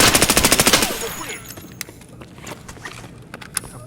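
A burst of rapid automatic gunfire in Escape from Tarkov, about a dozen evenly spaced shots up front, then fading into quieter ambient footsteps and a few isolated distant cracks.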